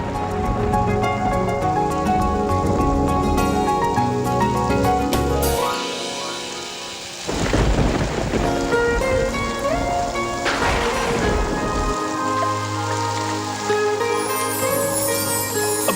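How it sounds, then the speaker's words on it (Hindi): Unseasonal rain pours steadily in a backyard, a dense wash of hiss with a brief dip midway, then a deep rumble that fits distant thunder. "बिना मौसम की बारिश है ये,"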